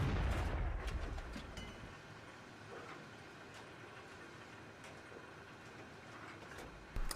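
Artillery fires in a strategy video game, a loud burst at the start fading into a rumbling, crackling battlefield din with scattered distant booms and a sharp thump near the end.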